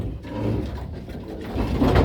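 Pigeons in a loft give low, soft cooing murmurs over a steady close rumble, with a slightly louder coo swelling near the end.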